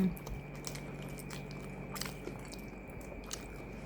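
A Thai snack from a small shop is bitten and chewed close up, with crisp crunching and moist chewing in a steady run of small bursts over a constant background hum.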